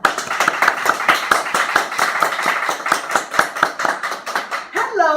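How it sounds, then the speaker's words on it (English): A small group claps steadily at a graduation party segment. The claps are close and lively and fade out as a voice comes in at the very end. "Everybody clap again."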